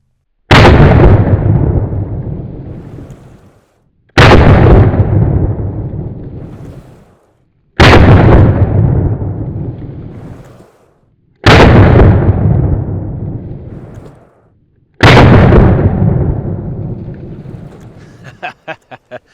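Taurus Tracker .44 Magnum revolver firing Buffalo Bore 305-grain rounds, five very loud close booming shots spaced about four seconds apart, each with a long rolling echo fading away, followed by a few faint clicks at the end.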